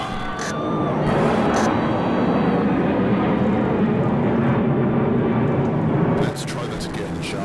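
A fixed-wing airplane's engines roar loud and steady as it aborts a landing in strong wind, with a brief drop in the noise near the end and voices talking over it.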